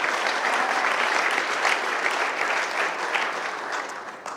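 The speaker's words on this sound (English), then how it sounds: "yes, we should clap for that." Sustained applause from the audience at the Grand Rapids mayor's State of the City address, a dense, steady wash of many hands clapping that carries loudly through the whole stretch and thins slightly toward the end.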